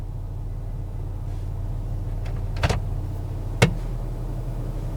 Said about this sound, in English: I'm going to let the car sit and run for about 10 minutes